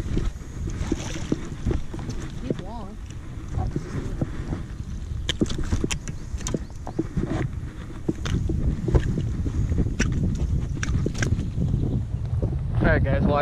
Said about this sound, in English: I apologize for the wind right now